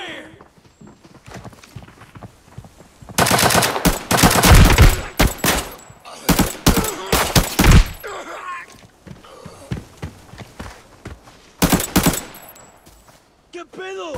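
Rapid bursts of gunfire from the video game Arena Breakout crackle in dense volleys, loud and close, with pauses between, over a murky background of game noise and occasional voices.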